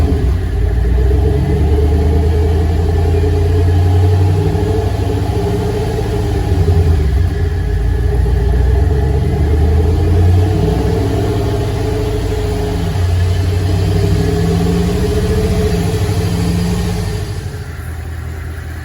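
A 2009 Pontiac G8 on the road gives a continuous loud engine rumble, revs climbing and dropping as it shifts through second, third and fourth gears, heard from inside over a steady drone.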